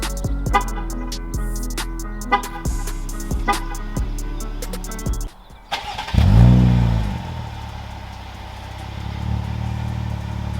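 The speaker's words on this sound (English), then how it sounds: "We'll go ahead and start it up for you guys so you guys can hear it." Starter motor cranks in rapid repeated clicks, then a 2020 Jeep Grand Cherokee Limited engine with Borla exhaust and Vibrant Ultra Quiet resonators catches and roars to life before settling into a deep, rumbling idle nearby.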